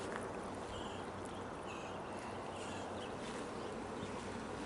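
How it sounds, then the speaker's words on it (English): Faint buzzing of bees drifting around a garden water fountain over a steady wash of outdoor background noise, with no voices. "I'm getting a few bees over here at the bee fountain"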